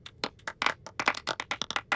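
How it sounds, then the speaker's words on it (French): Loud, rapid hand claps, about a dozen sharp irregular claps in two seconds, as in a group applauding at a gathering. "Un tonnerre d'applaudissements pour tout le monde."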